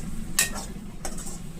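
Coriander chutney ingredients roast in a pan, giving a low, steady sizzle with two sharp scraping stirs of a utensil against the metal, close and fairly quiet.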